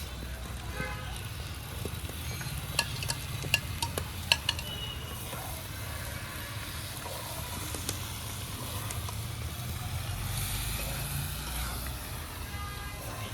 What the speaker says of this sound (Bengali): এবার দিয়ে দিব চিংড়ি মাছ।